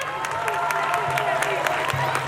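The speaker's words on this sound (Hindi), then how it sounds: "जोरदार तालियां" An audience claps at the close of a stage play, a steady dense patter of many hands that holds evenly throughout with a low murmur of voices underneath.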